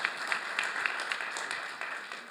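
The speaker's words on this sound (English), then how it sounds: "Let's give him a little round of applause." Audience applause at a fireside chat event, a modest round of steady clapping from a crowd that fades slightly toward the end.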